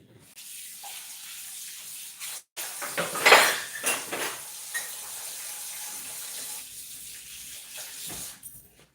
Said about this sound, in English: I already have to wash my hands.